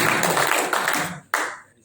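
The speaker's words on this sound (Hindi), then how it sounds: "एक बार जोरदार तालियां परवेश भाई के लिए" Audience applause at a talk in a hotel venue, a loud dense burst of many hands clapping close by that fades, then a brief renewed swell that dies away.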